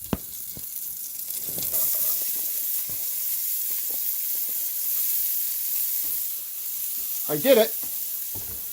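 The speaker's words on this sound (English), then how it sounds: "all that's going in the pan are those onions" Onions fry in a pan at a campground, making a soft, steady sizzle with occasional stirring scrapes, and a voice briefly speaks near the end.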